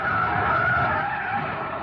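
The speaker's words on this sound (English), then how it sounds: "Jam on the brakes." A car brakes hard with a sustained, loud tire skid lasting the whole moment, a steady high squeal over road rumble during a tense race.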